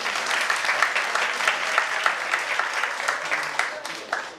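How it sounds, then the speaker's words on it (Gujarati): A crowd claps loudly and steadily at a Jain devotional gathering during a Mysore pilgrimage tour, dense applause sustained throughout, with no speech over it. "એકવાર જોરદાર તાળીઓ"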